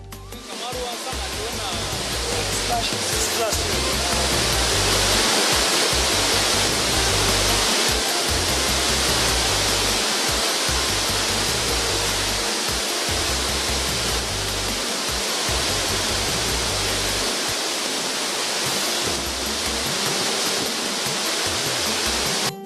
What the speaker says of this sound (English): 150 meters of cascading water and one of the tallest waterfalls in Nigeria.